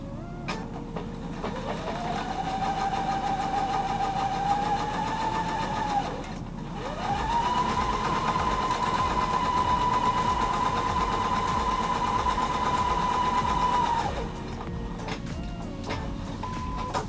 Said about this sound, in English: I'm going to sew these together.